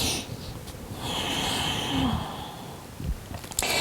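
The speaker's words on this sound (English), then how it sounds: "we'll use a very subtle oceanic sound. So Ujjayi breathing." Slow Ujjayi yoga breath: a soft, oceanic hiss of air drawn through a narrowed throat, one long steady inhale-exhale heard close and gentle in a quiet room, with a faint rustle at the end.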